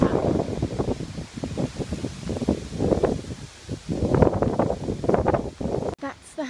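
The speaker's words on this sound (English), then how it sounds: "It's really, really windy right now, so that's what all the noise is," Gusty wind buffets the microphone outdoors, a steady rushing roar with a person talking over it throughout.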